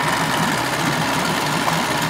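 A small outboard boat motor warming up at idle on a chilly autumn morning before fishing, a loud, steady high-pitched engine drone running evenly and close throughout.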